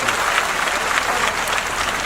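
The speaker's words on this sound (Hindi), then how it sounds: "तो ये सब करने के लिए, भागदौड़ करने के लिए, सेवा करने के लिए ताली बजा के इन सब लोगों का।" A crowd claps for volunteers at a public religious de-addiction gathering in Jamliya, Dharampur, loud continuous applause throughout, close and uninterrupted.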